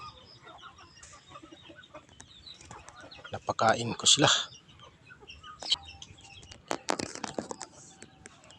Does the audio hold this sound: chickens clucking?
yes